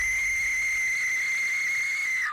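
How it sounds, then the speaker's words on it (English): A replica Aztec death whistle gives one sustained, piercing shrill tone at full loudness, with a rough airy edge underneath, held for about two seconds before it cuts off abruptly, heard alone and up close. "But how does a whistle make that horrifying sound?"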